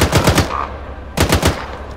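Automatic gunfire in the video game Arma 3, two loud close bursts of rapid shots separated by about half a second of quiet, with no voices.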